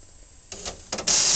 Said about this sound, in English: that was the Pitney Bowes WD700 address printer